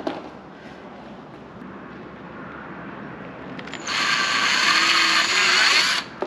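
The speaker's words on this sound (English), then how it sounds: "Okay, we'll drill through." A power drill bores through a car body panel while a CTS-V conversion kit is fitted to a CTS-V Sport: a steady low whir that rises into a loud, high-pitched grinding whine for about two seconds before stopping.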